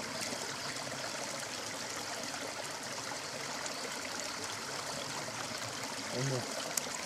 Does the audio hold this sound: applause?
no